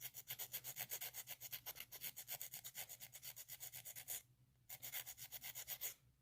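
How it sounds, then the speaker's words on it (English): A nail file strokes underneath a fingernail at an angle, shaping the tip in a quick, steady back-and-forth rasp close up, with one short pause near the end before the rubbing resumes. "Underneath the nail, angle your nail file"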